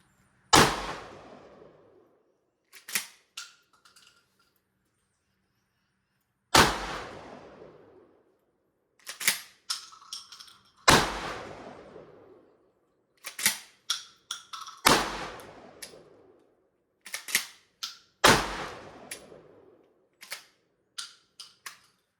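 Loud shotgun blasts from a Panzer Arms Turkish shotgun, with sharp reports fired in irregular bursts of one to three shots, each separated by pauses and ringing briefly afterward. No voices are heard.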